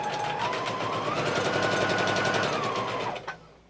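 A sewing machine runs a quick continuous burst of rapid, even stitching as fabric scrap squares are joined, its motor pitch rising mid-run before slowing and stopping, close and clear with no speech.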